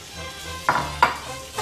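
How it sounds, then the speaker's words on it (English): Raw shrimp dropped into an already hot pan, giving two sharp sizzling bursts that settle into a steady close frying hiss, with a third smaller sizzle near the end. "The pan is already hot. So I'm just going to get the shrimp and put it in."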